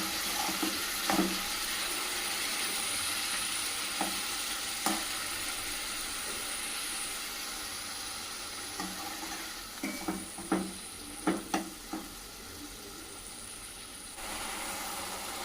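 Tomatoes fry and sizzle in oil in a pan for soya chunk keema, a steady crackling hiss broken by occasional scraping stirs and clinks near the end, with no talking.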